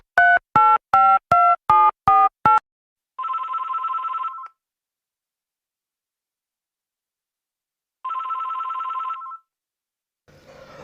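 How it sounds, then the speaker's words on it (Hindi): A landline telephone sounds a quick run of dialing tones, then two separate electronic ringing bursts with silence between, as a phone-in call connects to a Rajasthan weather broadcast; clear and close, with no talk over it. "जहां से फोन आउट के माध्यम से सीधा हमसे जुड़ रहे हैं केंद्र के निदेशक श्रीमान राधेश्याम जी शर्म"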